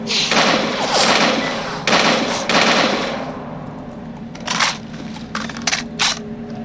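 Rapid bursts of automatic gunfire from 5.45 and 5.56 rifles in the video game Anomaly, loud and close in dense volleys, then thinning into sharper separate shots and thuds toward the end.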